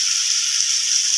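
Vegetables fry in a pan with a bright, steady hiss of sizzling oil, close and continuous, with no voices over it.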